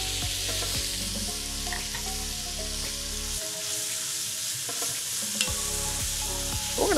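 Vegetables saute in a pan with a steady sizzle and frying crackle, broken by stirring scrapes and clinks of the utensil, close and clear with no talking.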